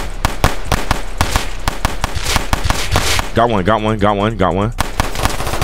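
Rapid full-auto bursts from a Glock fitted with a switch in a Roblox Chicago hood shooter game, dense repeated cracks over the opening seconds, with someone talking excitedly over the gunfire.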